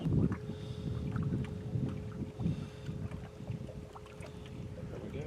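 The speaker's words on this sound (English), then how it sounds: "Before he turns on all 3 engines or whatever." A three-engine boat passes on the water with a low, steady rumble under wind buffeting on the microphone, moderately close and sustained throughout.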